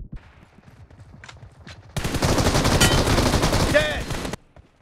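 Automatic gunfire in BGMI/PUBG, a loud rapid burst of shots lasting a few seconds after quieter ambient sound, then stopping abruptly.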